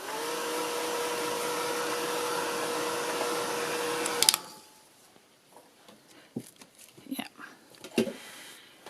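A hair dryer blows steadily on wet paint on a mixed media leaf postcard, a loud continuous whir for about four seconds that cuts off abruptly, followed by quiet scattered handling noises.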